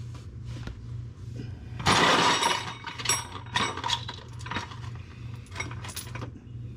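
Three reused metal exhaust bolts set down during an exhaust resonator and oxygen sensor repair, giving a sharp clinking rattle followed by several lighter metallic taps and clicks over a low steady hum.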